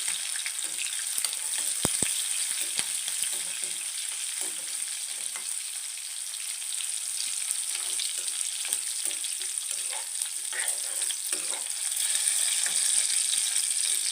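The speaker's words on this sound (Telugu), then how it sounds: "జీలకర్ర పచ్చిమిరపకాయలు వేసుకుని బాగా ఫ్రై చేసుకుందామండి" Cumin seeds and green chillies, with curry leaves, fry in a pan in steady, close sizzling crackle that runs unbroken throughout, with faint spatter and scrape textures and no talking.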